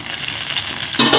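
Tomato and coconut drop into a pan of frying onions and dried chillies, and a loud sizzling surge near the end swells over a steady background crackle of frying.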